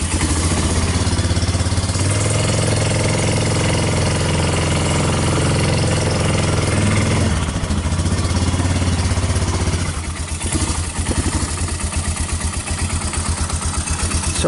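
A 1999 Yamaha Bear Tracker 250 ATV engine runs steadily nearby, a loud rattling mid-pitched putter that holds constant, then shifts in tone partway through as the machine changes load.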